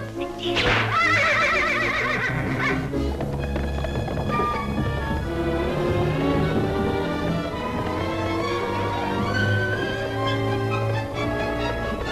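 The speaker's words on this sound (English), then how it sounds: "Giddy up, Susie. Giddy up. Whoa" Horse whinnying and moving in a 1939 animated film, a loud neigh near the start over a busy orchestral score that plays throughout.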